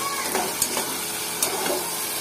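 Beef with cabbage, peas and sour yogurt being stir-fried together in a pan, giving a steady close sizzle with a few soft scraping strokes of a spatula over about two seconds.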